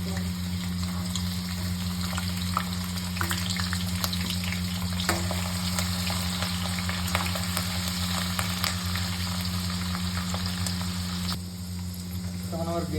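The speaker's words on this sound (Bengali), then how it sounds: "তো এবার নেক্সট আমরা ভেজে নেব বিনসগুলোকে।" Green beans fry in hot oil with a dense, continuous sizzle and crackle, close and even, over a steady low hum, with occasional clinks from stirring.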